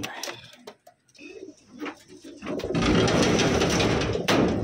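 Taiwan racing pigeons coo and rustle inside a cage, soft calls near at first, then a steady wash of flock noise and movement fills the background.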